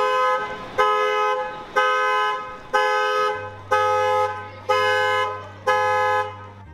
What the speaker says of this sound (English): have you ever noticed what happens when a car alarm goes off in the streets?